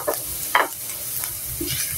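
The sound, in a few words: garlic sizzling while being sautéed in a pan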